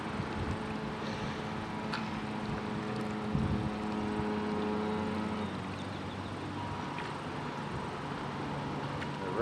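A New Bright Fountain RC boat with hobby-grade modifications runs its motor at full throttle, giving a steady, continuous high-pitched whine and hum with a constant pitch throughout, fairly close.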